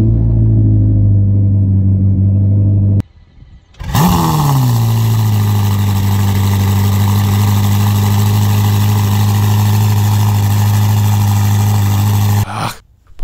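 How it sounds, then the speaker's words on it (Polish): A Ferrari SF90 Stradale 4.0 V8 fires up loudly in performance mode after a brief hush, the revs flaring then settling into a strong, steady close idle drone that cuts off near the end, with no one talking. "Pora więc przełączyć tryb performance, gdzie budzi się od razu silnik V8."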